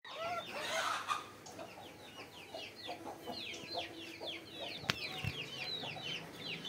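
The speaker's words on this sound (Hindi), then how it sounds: "अब हम अपने मुर्गियों को अभी हमने खोला है अभी अभी और दोस्तों देखिए कितने शौक से दाना खा रही है" Chickens on a farm cluck and chatter busily while pecking at grain, a dense run of short close calls at moderate volume with one sharp knock partway through.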